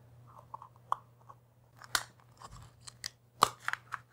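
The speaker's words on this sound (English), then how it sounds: "I'm going to use my razor knife to actually cut out the slot" A razor knife cutting a slot into an end cap for a homemade CD spectroscope, giving a few sharp, close scraping and snipping cuts spaced irregularly in an otherwise quiet room.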